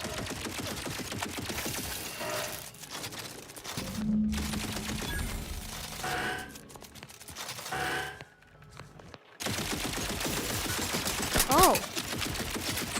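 Enemy gunfire in The Outer Worlds 2, rapid bursts of shots crackling on and off around a player's voice, with short pauses between volleys and a final loud flurry.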